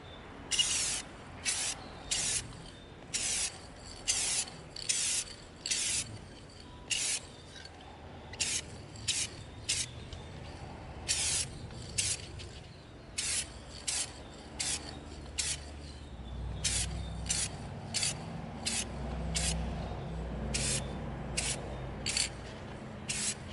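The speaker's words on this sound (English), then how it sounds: "We're going to spray our exploding gel gun with our aluminum." Repeated short bursts of aluminum aerosol spray paint hissing onto an EVA foam prop gun, dozens of quick blasts in an irregular rhythm, close and fairly loud, with a low rumble of handling noise underneath.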